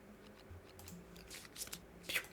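Board game cards for Kingdom Death: Monster are shuffled quietly on a table, a couple of brief soft riffling and sliding bursts with no one speaking.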